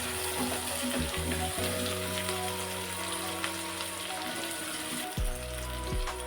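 Shallots and garlic frying in sesame oil give a steady, soft crackling sizzle that holds evenly throughout at moderate level, with a faint background hum and no talking.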